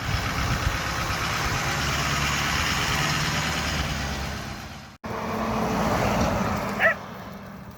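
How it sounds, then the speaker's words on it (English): A Ford Bronco engine runs steadily during a test drive after a tie rod end replacement, a loud continuous rumble that cuts out abruptly and then resumes with a brief louder rise near the end. "Let's take it for a test drive."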